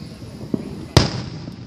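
Fourth of July fireworks pop outdoors, a small burst followed by a sharper, louder crack that trails off into a low rumble against quiet background noise.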